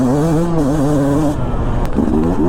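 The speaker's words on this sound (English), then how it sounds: "you can still rev this thing out a lot because it is a smaller bore 2-stroke, and it really does like to scream" A 2022 Beta 200 RR two-stroke enduro bike's engine revs loudly up close, its raspy pitch rising and falling in quick waves before climbing again, with no talk over it.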